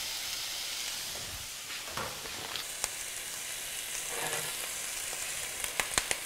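Pork tenderloin sizzles in butter with sage in a frying pan, giving a steady, close hiss of frying with a few sharp pops and spatters near the end.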